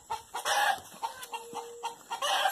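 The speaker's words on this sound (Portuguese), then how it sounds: "Tem um frango aqui fazendo zoada aqui." Farmyard chickens cluck in a series of short, loud bursts at close range, with a sustained squawk through the middle and no voices.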